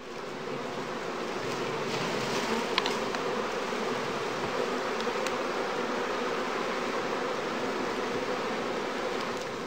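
Honey bees swarm-buzz around straw skep hives in a heath apiary during the after-swarm season, a dense, continuous hum near and far with occasional louder passes of single bees.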